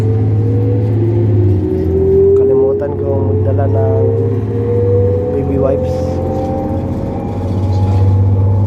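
Bus engine droning steadily while riding inside a bus, a low hum with a slowly rising whine as it accelerates, heard continuously beneath a person talking.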